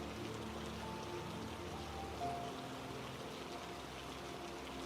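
A quiet, even wash of falling rain, used as a backdrop for deep sleep relaxation, holds steady throughout with no distinct drops standing out and no voices.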